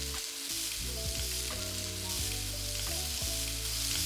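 Shrimp sear in olive oil over very high heat, a loud, steady sizzle holding for the whole stretch with tonal background music running underneath.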